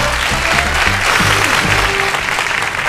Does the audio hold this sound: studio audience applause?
yes